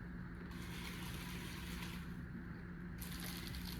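Three-quarters of a cup of water poured for a lemon chicken marinade, a steady gushing splash lasting a few seconds with brief changes in tone, fairly faint and heard alone.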